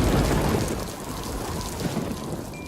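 A video game storm orb gives off steady rainfall with rumbling thunder, a dense hiss of rain on surfaces under low rolling booms, loud at first then settling to a constant wash.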